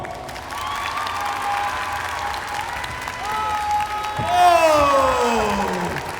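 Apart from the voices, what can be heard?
audience applause and cheering for presenter at Japan Expo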